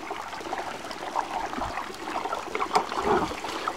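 The Sopotska river flows over stones in a steady, close trickling babble, with small splashes rising and falling and no voices.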